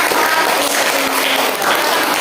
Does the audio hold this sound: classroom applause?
yes